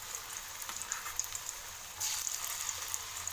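Potato pieces sizzle and crackle in hot oil, a steady faint frying hiss with scattered pops that swell louder near the end as more pieces go in.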